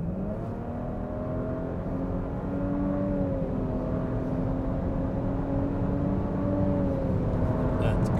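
A car accelerating hard in sport mode from 80 to 120 km/h, its engine droning loud and steady from inside the cabin and climbing gradually in pitch as speed builds.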